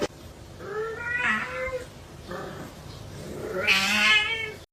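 A house cat meows three times, drawn-out and whiny, with the last cry loudest and rising toward a yowl, close to the listener against a quiet room.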